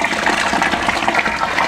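Two liters of boiling water poured into a strawberry wine fermenter, a steady, close, full-bodied liquid gush and splash running continuously with no talk.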